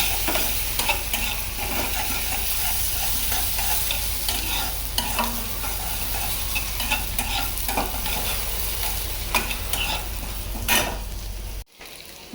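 Leftover fish frying in a home kitchen pan, a steady close sizzle running for about twelve seconds with occasional stirring clinks, then cutting off abruptly near the end.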